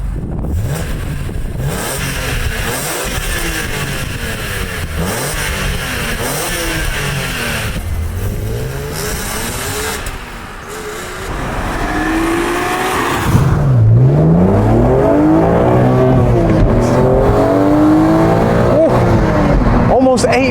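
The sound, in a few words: BMW Z4 M Coupe engine revving and accelerating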